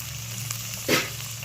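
Peas tipped into a hot pan of onions for a veg dum biryani set off a single short, bright sizzle burst against an otherwise quiet low hum.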